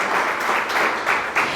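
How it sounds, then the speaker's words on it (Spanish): A church congregation applauds, with dense, loud, continuous clapping filling the hall throughout the short burst and no distinct talking. "Denle un aplauso al Señor"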